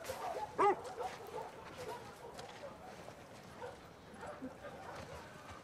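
Bear the dog in The Last of Us Part II gives a single short bark followed by faint whimpering, quiet beneath someone talking over game ambience.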